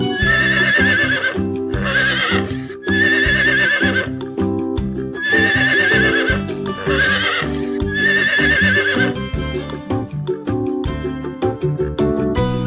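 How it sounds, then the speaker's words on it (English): A horse neighs and whinnies repeatedly over a steady clip-clop rhythm of hooves, the calls loud and close, set against a busy musical backing with no talking. "Horse neighs."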